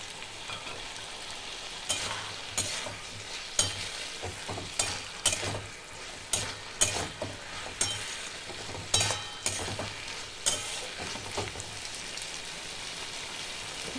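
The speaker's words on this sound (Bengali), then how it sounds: "আমি গ্যাসটা একটু বাড়িয়ে দিয়ে আমি অল্প পরিমাণে একটু জল দিচ্ছি।" Water spinach sizzles and crackles in a hot pan after a small splash of water, with steady frying hiss and repeated utensil stirring knocks throughout, close and fairly loud.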